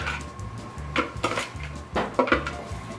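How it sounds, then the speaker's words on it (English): Chocolate cake batter scraped out of a bowl, a series of clinking, scraping knocks of a utensil against the bowl in an irregular rhythm, close and moderately loud, with no talking. "you scrape out the bowl"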